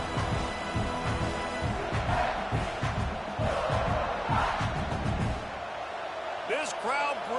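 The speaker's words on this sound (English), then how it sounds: "This crowd bringing the energy and noise early" Stadium crowd roaring at an Ole Miss versus South Carolina college football game, a dense, sustained wall of cheering and yelling with a commentator talking over it.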